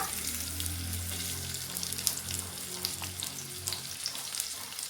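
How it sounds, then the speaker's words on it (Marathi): Onion frying in a tablespoon of oil for a Nashik-style kat vada rassa, a bright, dense crackling sizzle with small spatters, steady and close, with a low hum beneath and no talk. "त्यात आपल्याला टाकून घ्यायचं आहे सगळ्यात पहिल्यांदी कांदा"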